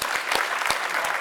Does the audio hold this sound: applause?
yes